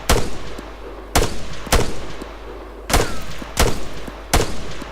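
Heavy, weighty gunshots in the military shooter ArmA 3 crack out in a loose, uneven series of about six loud, close reports, each followed by a brief ringing tail, with no talking.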